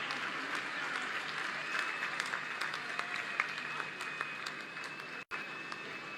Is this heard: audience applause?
yes